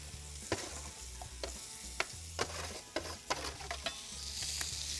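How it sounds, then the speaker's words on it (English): Croutons are stirred and lightly toasted in a frying pan for a salmon Caesar salad, with a steady sizzle under repeated scraping and clicking of the spoon against the pan. "So let's give our croutons a stir."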